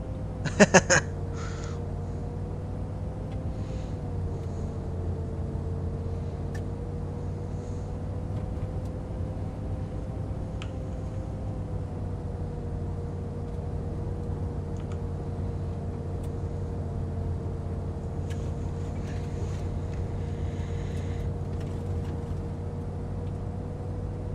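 A military truck driving in a milsim video game: a steady, droning engine hum with a sustained tone that rises and falls gently. A few brief clacks come early, then the drone runs on unchanged.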